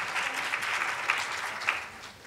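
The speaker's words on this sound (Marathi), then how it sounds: "आपण एकदा त्यांच्यासाठीही जोरात टाळ्या वाजवल्या पाहिजेत" An audience claps for the accompanying musicians at a Marathi music and poetry stage show, a continuous wash of applause at moderate level with a few sharper individual claps standing out before it thins toward the end.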